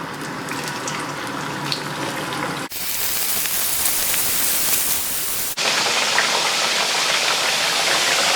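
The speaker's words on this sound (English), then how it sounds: "once that oil gets hot, put in your potato slices" Potato slices frying in half an inch of hot oil, a dense, loud crackling sizzle that carries on steadily across several spliced segments, with no one speaking.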